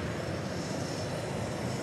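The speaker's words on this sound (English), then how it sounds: "There's a JSX aircraft. It's an Embraer 145. It just came in from, where is that?" A JSX Embraer 145 regional jet arriving at Dallas Love Field, a steady, broad engine roar that stays constant, moderately loud and at some distance, with no voices over it.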